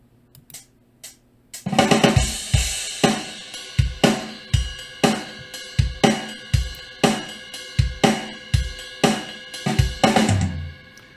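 Programmed drum beat running three steady bars of kick, snare and cymbal hits, then a busier fill in the fourth bar, loud and close with no talk.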